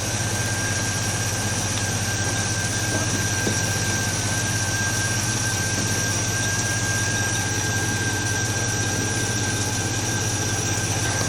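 A Buick 225 V6 in a Jeepster idling rough: a steady, loud engine drone with a low throb and a constant whine running through it, unbroken for the whole stretch with no voices.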